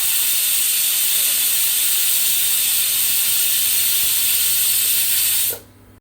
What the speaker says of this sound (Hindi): कुकर में भी सीटियाँ आनी शुरू हो गई हैं